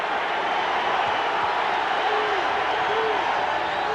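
A boxing arena crowd roars steadily for Pernell Whitaker during his fight with Greg Haugen, a dense continuous wall of cheering and whoops heard from within the venue.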